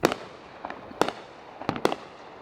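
Fireworks going off nearby in a neighborhood, several sharp cracking bangs at irregular intervals, each with a brief crackle and echo, fairly distinct against a quiet background.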